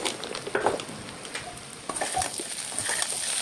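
A spoon scrapes and stirs potato, fenugreek and bean sabzi frying in a pan, with irregular soft clinks and scraping over a continuous light sizzle, close by and moderately quiet.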